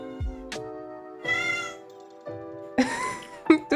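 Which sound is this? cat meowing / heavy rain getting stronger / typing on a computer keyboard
cat meowing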